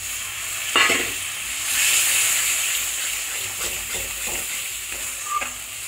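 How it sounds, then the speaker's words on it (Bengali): Masala stir-fried in oil for egg curry, cooked until the oil separates: a continuous hissing sizzle with a few spatula scrapes and stirring knocks, close up and without talk. "আমি বলেছিলাম যতক্ষণ না পর্যন্ত মশলা থেকে তেল ছেড়ে না দিচ্ছে ততক্ষণই এটাকে কষিয়ে যেতে হবে"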